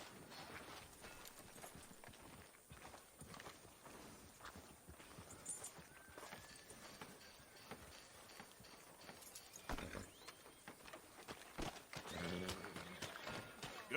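Hooves clip-clop at a walking pace with a horse whinnying, set against layered game-like background sounds and occasional clanks, in Red Dead Redemption 2.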